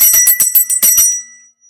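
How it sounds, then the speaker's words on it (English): An old dinner bell rung by hand, about eight quick, bright metallic strikes in a rapid run that end in a short ringing fade, close and clear with no talk. "I ring my dinner bell that was rung for 15 years"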